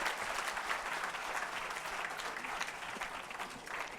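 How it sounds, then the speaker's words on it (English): An audience at an annual session ceremony claps steadily and densely throughout, a continuous wash of applause with no voices standing out. "A round of applause."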